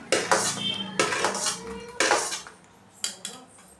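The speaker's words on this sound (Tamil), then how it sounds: "மிளகா போட்டு நல்லா வறுத்துக்கலாம்." Red chillies dry-roasting in a pan, heard as a series of sharp metallic scrapes and clanks of a utensil against the pan, roughly once a second, close and fairly loud with no talking.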